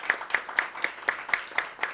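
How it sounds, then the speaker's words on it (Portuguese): Scattered, fairly faint clapping of a small group at a political gathering in Brasília, about eight soft claps in a steady rhythm over a couple of seconds, with no voices over it. "Salva de palmas para ele, né?"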